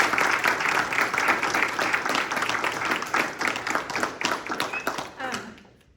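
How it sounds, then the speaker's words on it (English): Audience applause for the candidates at a school board trustee candidate forum, a dense run of many hands clapping at steady volume that fades out near the end, with some voices mixed in. "Can we have a round of applause for all of our candidates?"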